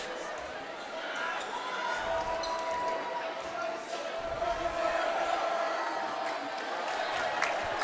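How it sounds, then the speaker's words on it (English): A loud home crowd roars through a high school varsity boys basketball game, M-A against Carlmont, with commentators talking over the sustained crowd noise and occasional ball bounces. "the MA crowd got to them. You can hear them. Yeah. They're loud."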